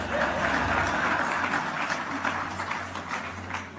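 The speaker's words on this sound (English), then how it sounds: "Don't be afraid to clap." An audience claps steadily at a speech, a dense, continuous patter of hands that stays fairly even and holds at moderate loudness throughout.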